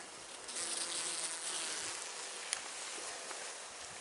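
Honey bees buzz around a caged queen as they are shaken into a hive, making a dense, continuous high drone close by with a faint knock partway through and no voices.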